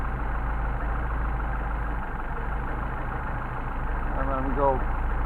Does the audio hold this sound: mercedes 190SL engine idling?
yes